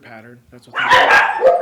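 Dogs bark loudly and repeatedly in the second half, overlapping someone speaking; earlier, his voice is heard alone.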